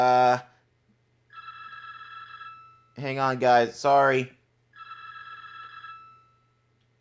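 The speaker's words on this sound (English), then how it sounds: "That's the phone ringing in the background." A telephone rings in the background in repeated electronic bursts with gaps between them, while a voice apologizes between the rings.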